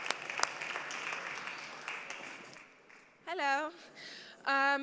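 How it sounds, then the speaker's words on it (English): Audience applause for a student presentation at a fashion hack day event, a broad steady wash of clapping that fades out before a voice comes in near the end. "please, big applause for Project Moon."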